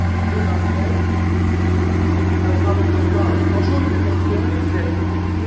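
A Lamborghini Aventador SVJ Roadster, a 2020 Viola 30th anniversary car, idles right after its first startup, giving a loud, steady, close engine drone with a deep even hum and talking over it.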